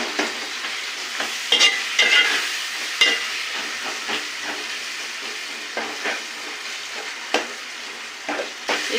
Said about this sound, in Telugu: ఇప్పుడు ఉప్పు వేస్తాం కాబట్టి టమాటాలు తొందరగా మగ్గుతాయి.